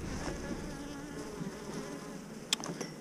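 Honeybees buzz from an opened hive in a steady, dense drone close by, with a brief sharp click near the end and no speech.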